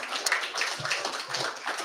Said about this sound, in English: One more applause for Hugo,